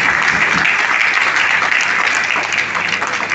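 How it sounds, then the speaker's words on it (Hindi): An audience at a national awards ceremony breaks into loud, dense applause, a continuous wash of many hands clapping close and steady throughout, with no pauses. "आप लोग जोरदार ताली बजाएं"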